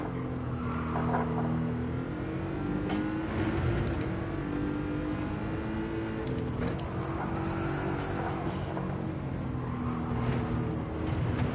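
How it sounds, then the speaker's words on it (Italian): Car engine from the racing video game Gran Turismo 7 drones low and steady with shifting pitch as it accelerates, a continuous rumbling whir at moderate level. "Senti come sta basso il motore."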